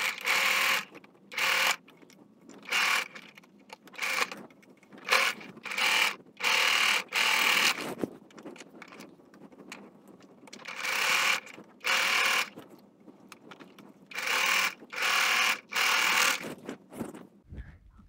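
A home sewing machine stitches a fabric face mask in repeated short bursts of whirring, close and clear, with brief pauses between runs.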